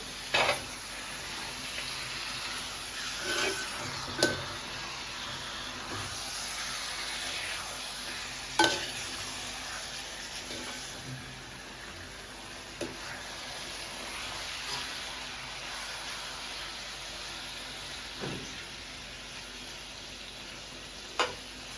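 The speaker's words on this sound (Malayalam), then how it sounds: "ഇറച്ചി കഷ്ണങ്ങൾ ഇതിനകത്തേക്ക് ഇട്ട് കൊടുക്കാം നന്നായിട്ടൊന്ന് ഇളക്കി" Chicken pieces for a black-pepper chicken dry fry are stirred in a hot pan, giving a soft, steady frying sizzle with scattered scraping knocks of the spoon against the pan, fairly quiet and with no talking.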